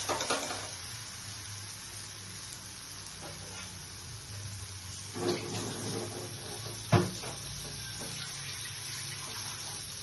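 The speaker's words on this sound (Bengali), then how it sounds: "এখন আমি একটু জল দিয়ে দেব।" Steady running water splashes continuously as it is poured into a cooking pot of paneer and pumpkin seed curry, with a couple of brief clinks of utensils partway through.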